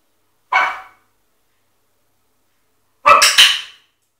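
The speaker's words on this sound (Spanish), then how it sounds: "Empieza a ladrar muchísimo más rápido," A dog gives a single short muffled bark, then after a pause two quick half-formed barks close by, as if trying to bark, with silence around them.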